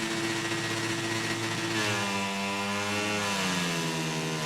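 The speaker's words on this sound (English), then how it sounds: "Revving it up" In MotoGP 19 at Assen, a race motorcycle engine revs on the grid before the start, a buzzing, harmonic drone that rises sharply in pitch toward the end, loud and close.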